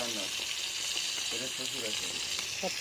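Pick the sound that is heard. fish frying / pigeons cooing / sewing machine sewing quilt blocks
fish frying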